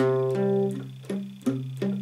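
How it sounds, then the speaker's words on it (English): Guitar chords picked with a dampened, choppy attack, each stroke decaying quickly; a handful of evenly spaced muted hits, close and fairly quiet. "you can mute it a little bit so it sounds like this."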